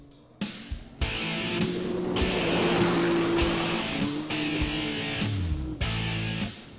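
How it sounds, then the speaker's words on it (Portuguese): Rally quad bikes and cars racing on the dirt tracks of Jalapão, with engines revving and roaring past in short bursts, gear changes and rising whines, loud and close with brief gaps between passes. "O silêncio do Jalapão desaparece com o barulho das máquinas velozes."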